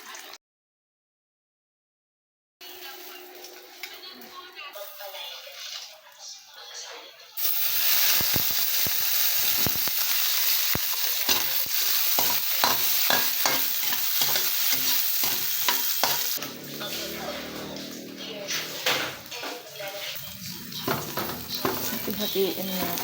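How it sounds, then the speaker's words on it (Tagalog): Eggs fry in a pan with a bright steady sizzle and scraping stirs of a utensil against the pan, after a short silent gap, with occasional background voices. "ayaw ko nagluluto ng itlog dito eh"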